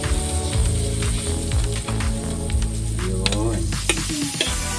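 Margarine sizzles loudly in a pan as ingredients for spicy knife fish sisig are sautéed, a dense crackling hiss with stirring clatter and scrapes close up, one brief spoken word near the start.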